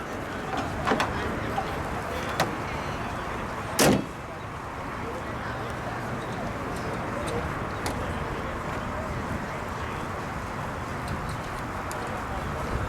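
The hood of a 2006 Ford Mustang Shelby GT-H rental car shuts with a single sharp, loud slam at close range, set among a few lighter clicks and steady outdoor ambience.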